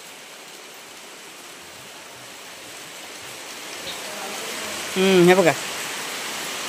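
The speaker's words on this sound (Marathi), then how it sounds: "तो बघा बाहेर काय पाऊस पडतोय" Heavy rain falling outside a house, a steady wash of hiss that builds gradually, with a short spoken phrase near the end.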